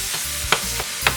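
Curry fried rice is chopped and turned in a hot pan, sizzling steadily while a spatula strikes and scrapes the pan in a couple of sharp, close hits.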